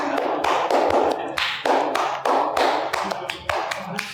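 A series of sharp hand claps, close and loud, in an uneven rhythm of roughly a dozen quick claps over a few seconds, with no talking.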